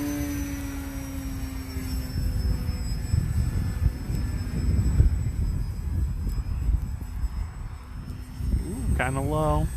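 A radio-controlled plane flies overhead on a windy day, its thin engine whine drifting steadily in the distance over heavy wind rumble, with a brief voice near the end.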